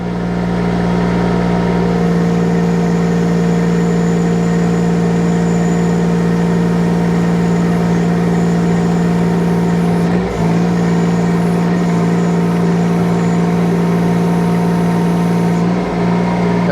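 A mini excavator engine runs at steady throttle with a strong low drone while the boom lowers. Faint hydraulic shifts and a brief disturbance come near the middle and again near the end, and nobody speaks.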